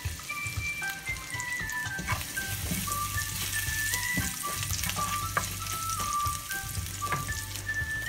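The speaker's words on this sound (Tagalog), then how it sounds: "So igisa natin yung bawang hanggang sa siya ay mag golden brown." Garlic sizzles steadily in a pan over the whole stretch, with scattered spatula scrapes and crackles and a low background hum; no one speaks.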